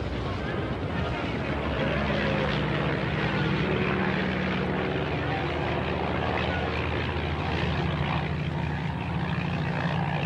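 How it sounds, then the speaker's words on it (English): A propeller airplane engine runs steadily, warmed up and ready for takeoff, with a loud continuous drone and hum throughout, while voices talk faintly beneath it. "Come on, your plane is all warmed up."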